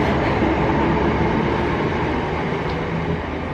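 A Northern train rolls loudly and steadily through Rainhill station, a two-platform stop, its broad rumble and rail noise sustained close by with no talk.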